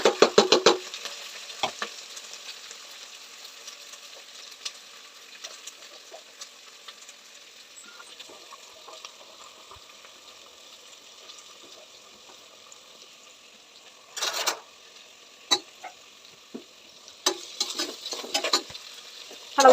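Onions, green chillies and curry leaves fry in a pan with a faint, steady sizzle, broken by a few louder stirring scrapes near the start and toward the end, close by and with no talk.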